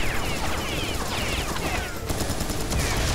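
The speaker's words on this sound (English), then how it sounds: "I'm trying to get them with a shotgun because I ran out of ammo." Dense gunfire from the video game Serious Sam: BFE, a steady loud barrage of rapid shotgun blasts and cracks over a constant roar of game noise.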